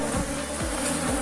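Honeybees swarm around a wall of beehive boxes in an apiary, giving a dense, steady drone that fills the scene with no pauses and sits close and loud.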